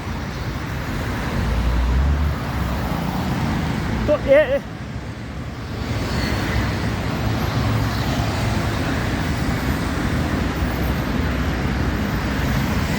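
A CNG bus in steady road traffic, its engine and tyre noise a constant low rumble with passing vehicles around it, and a brief voice speaking near the middle.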